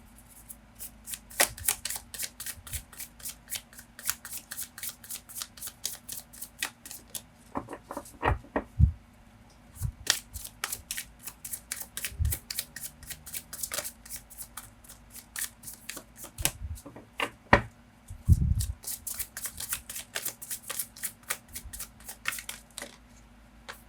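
Tarot cards being shuffled by hand in a quiet room, a long run of crisp riffling flutters and soft slaps that come in bursts with brief pauses between, close and clear.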